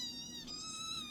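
A kitten gives one drawn-out, high-pitched meow close by, alone against a quiet indoor background.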